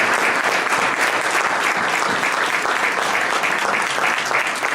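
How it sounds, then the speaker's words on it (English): An audience at a university talk gives the speakers a big round of applause, a loud, dense, sustained wash of clapping from many people that holds steady throughout. "let's give our speakers a big round of applause"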